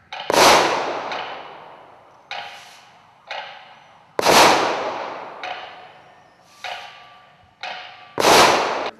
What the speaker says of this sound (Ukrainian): символічні три постріли перемоги